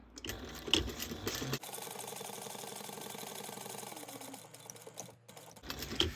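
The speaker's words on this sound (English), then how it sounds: "I'm gonna sew right down the center" Sewing machine stitching down the center of backpack pockets, a fast, even mechanical whir and rattle running steadily for several seconds between brief handling noises, close and fairly quiet.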